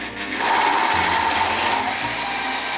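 Black olives and walnuts whir in a food processor, a steady loud motor hum with a slight grinding texture that holds constant throughout.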